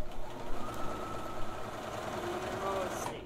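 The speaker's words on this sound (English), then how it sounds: "Another row of stay stitching." A sewing machine runs a row of stay stitching on a waistband sample, a fast, even mechanical chatter of the needle at close range that continues steadily without a break.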